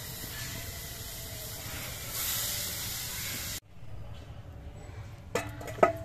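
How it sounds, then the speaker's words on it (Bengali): Pitha batter hits a hot, unoiled frying pan with a broad, steady sizzling hiss that runs for a few seconds, then cuts off to quieter kitchen sounds with a couple of sharp clatters. "আবার একটা পিঠে ভাজার জন্য আমি গোলা দিয়ে দিচ্ছি।"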